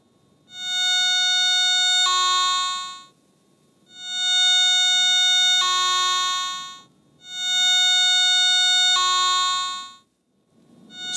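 Three loud, sustained electronic tones from a Garrett ATX metal detector signalling a strong target, with a bright harmonic buzz, each about two to three seconds, separated by short pauses over a low background hiss.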